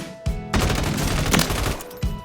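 Loud, close automatic gunfire from a rifle fitted with Retort 90 grip tape in Warzone, a fast continuous burst with a brief break before a final few shots, no voices.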